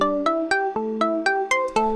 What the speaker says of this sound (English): Same thing, Dave Smith Tetra. That arpeggio sound.